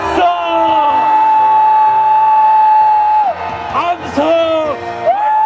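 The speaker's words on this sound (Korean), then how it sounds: "함성 발사!" A crowd at a political prayer rally in Sejong shouts a long, loud sustained cheer on command, a drawn-out amplified roar, broken by a few shorter bursts of shouting near the end.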